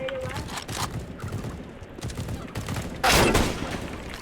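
Gunfire in the video game CS:GO, with a Nova shotgun and SSG08 sniper rifle in use, comes as scattered shots across the clip, the loudest burst near the end.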